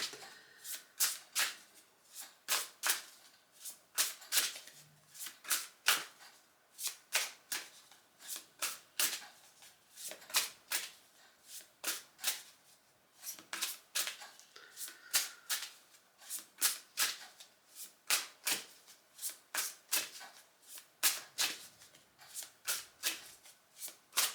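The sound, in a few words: shuffling large decks of cards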